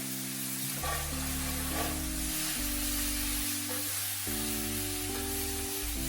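Spinach wilting in a hot pan, a faint, even sizzle running throughout beneath louder background music, with no speech.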